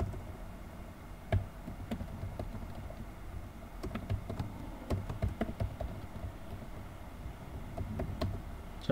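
Quiet, uneven clicking of computer keyboard keys as JavaScript code is typed, with scattered taps and a few louder keystrokes over a low background hum, no talking.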